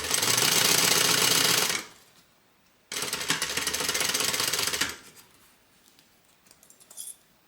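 A sewing machine stitches a handbag flap in two fast, close whirring bursts separated by short pauses, with a faint click or two at the end.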